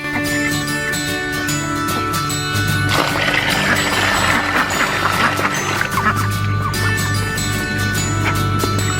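Noisy waterfowl calling over a steady low hum, with a louder burst of overlapping quacking and honking in the middle of the recording.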